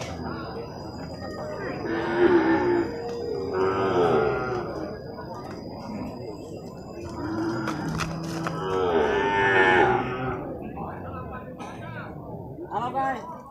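Cattle and buffalo, including young male buffalo, low and moo in drawn-out calls at an open-air livestock market in Purwakarta, under a constant murmur of voices and crowd chatter.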